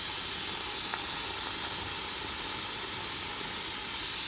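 Olive oil hits a hot pan of frying onions, producing a loud, unbroken hiss that stays constant from start to finish.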